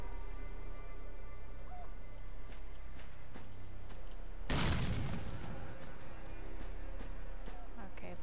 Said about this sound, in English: now that I don't have friends with me, I can grenade to my heart's delight